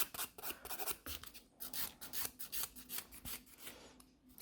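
Acrylic nails are filed by hand in quick, scratchy strokes, each a short rasping burst with brief pauses between, close and fairly quiet, with no talking.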